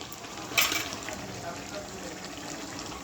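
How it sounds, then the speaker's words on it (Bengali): Mutton sizzling as it is sautéed in a pan, a steady close frying hiss with faint stirring, a brief louder scrape near the start. "কষা হচ্ছে এখনো, ভালো করে কষানো হবে"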